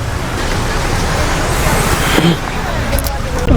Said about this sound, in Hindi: ट्रैफिक बहुत ज़्यादा आता है एकदम